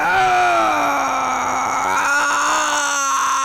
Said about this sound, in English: Distorted screams.